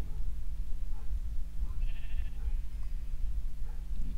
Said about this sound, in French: Là, il y a du mouton.